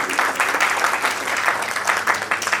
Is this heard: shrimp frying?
no